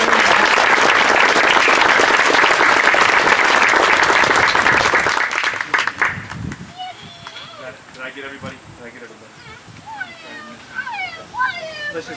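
Loud applause from an outdoor church congregation following baptisms fills the first five seconds, then fades into scattered claps and background murmur.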